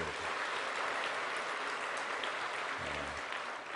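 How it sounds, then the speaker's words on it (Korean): A church congregation claps together in thanks during a Sunday sermon, a steady, dense wash of applause filling the room for several seconds without letting up. "우리 하나님 옆에 감사 박수 한번 해요."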